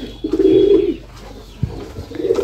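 Doves coo in a pigeon house, two soft low rounded calls, one long at the start and a shorter one at the end, with a faint thump between them.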